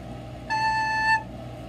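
One sustained recorder note held steadily for about two beats as a half note, bright and pure with strong overtones, close and alone over faint room noise.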